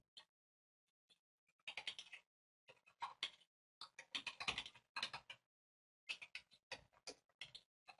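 Bursts of quiet computer keyboard typing, quick clustered keystrokes separated by short pauses, close but faint.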